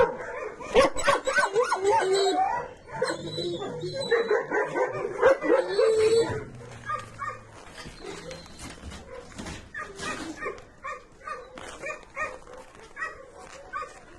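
A limping, trembling dog barks, yips and whimpers at close range, with short bursts of yelping and softer whines, while a person talks over parts of it.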